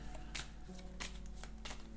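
A deck of cards is shuffled by hand close by, giving soft, quick riffling bursts at a low, quiet level.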